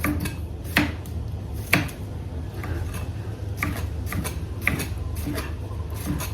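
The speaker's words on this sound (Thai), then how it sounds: "กระเทียมก็หั่นแผ่นจ้ะ" A knife taps and slices garlic into thin slices against a cutting board in irregular, crisp strokes, fairly close, over a low background hum.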